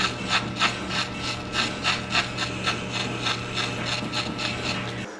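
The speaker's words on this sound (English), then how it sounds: "now you're just gonna clean all of this up, shave it all off." Electric hair clippers buzzing steadily at close range while shaving hair off in a home haircut, with a regular rhythm of brushing passes repeating about twice a second.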